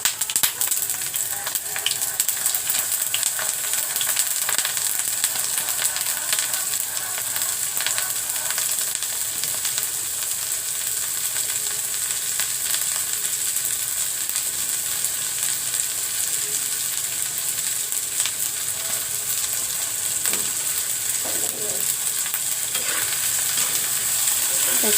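Soaked, washed red lentils frying in a pan for dal bhorta, with a steady close sizzle and occasional stirring scrapes throughout, no voices.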